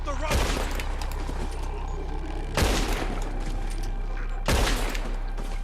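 Gunfire in Red Dead Redemption 2 during a rescue shootout: three loud, sharp broadband shots about two and a half seconds apart, each with a ringing decay, over a busy background of game sound and voices.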